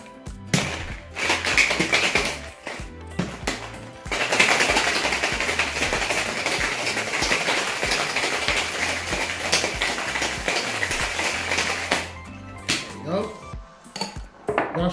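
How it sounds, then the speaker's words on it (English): Cocktail shaker tin with ice shaken hard for a cognac-based East India House cocktail: a dense, continuous rattling clatter lasting about eight seconds, loud and close, framed by a few separate knocks of handling before and after. "And we're gonna go for a hard shake."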